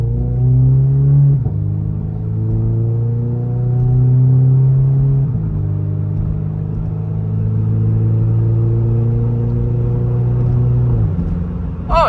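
A Toyota GR86 in sport mode engine-braking while driving, its low exhaust drone holding steady and dropping in pitch in stages as gears change, with a continuous rumbling tone and no talk over it.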